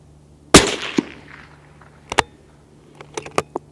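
A Sauer 404 bolt-action rifle chambered in .308 Winchester, its bolt worked with one sharp metallic clack followed by a few lighter clicks, close and distinct against a quiet background.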